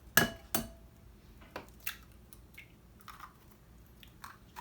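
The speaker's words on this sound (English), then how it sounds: "now we're going to crack this egg and we're going to get it in the bowl" A single egg cracked against a hard edge and dropped into a bowl, a couple of sharp close taps followed by faint small knocks and handling noises, no talking.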